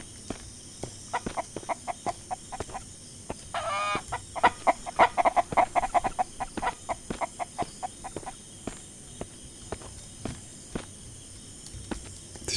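Chickens cluck steadily in the MIST Survival game, a close burst of rapid clucking mixed with rhythmic footsteps walking throughout.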